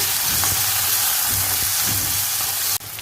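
Chopped tomato and curry leaves fry with a loud, steady sizzle in a hot pan, punctuated by occasional soft scrapes of stirring, ending with a sudden brief drop in the sizzle.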